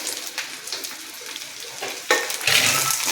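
Tamarind, dried chillies and curry leaves roasting in a pan for kadala paruppu thogaiyal, giving a close crackling sizzle with a few scrapes and a louder burst of frying near the end.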